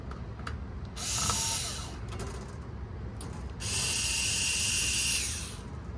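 Screws on the bottom panel of a Nakamichi ZX-7 tape deck being partially loosened with a screwdriver, two bursts of close, bright ratcheting clicks separated by quieter handling sounds.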